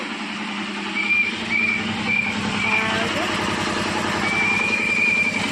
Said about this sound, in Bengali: জলের গাড়ি এসছে তাই আওয়াজ ওই গাড়ির ইঞ্জিন